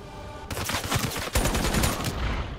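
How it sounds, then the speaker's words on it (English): Sustained automatic gunfire in Call of Duty: Black Ops III, a loud dense rattle of rapid shots that runs almost continuously for a couple of seconds. "You weren't even shooting at the dude, you were shooting at the freaking wall."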